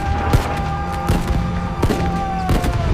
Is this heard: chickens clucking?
no